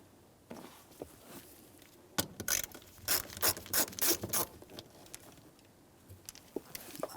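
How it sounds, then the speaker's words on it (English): A Phillips head screwdriver backs out the mounting screws of a shield on a 1992-1996 Toyota Camry rear suspension, giving a run of quick, close ratcheting clicks in the middle with quieter handling noises around them and no talk. "we'll continue on with a Phillips head screwdriver to remove all of the hardware"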